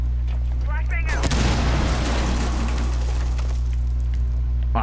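A flashbang grenade bursts in a video game, a sudden loud broadband blast that hangs as a long washy roar over a steady low hum, with a brief voice just before it.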